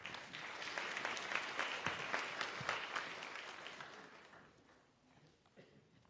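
Audience at a youth tourism summit gives a speaker a round of applause, moderately loud distinct claps that continue steadily and then thin out and fade toward the end.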